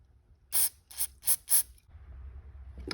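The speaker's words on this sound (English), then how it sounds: "We're gonna spray out the jets, make sure that they are clear." Four quick, sharp hissing bursts of aerosol spray blow through the jets of a Motorcraft 2150 carburetor from a 1985 Ford Ranger, close and evenly spaced, followed by quiet shop background.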